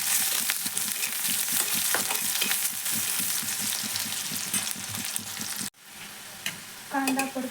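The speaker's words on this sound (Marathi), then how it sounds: "तेल गरम झालं की बारीक चिरलेला कांदा घालू आणि सोनेरी रंग येईपर्यंत परतून घेऊ" Finely chopped onion frying in hot oil for a cauliflower bhaji, a loud continuous sizzle with rhythmic stirring scrapes that breaks off sharply, then resumes with a few utensil clinks.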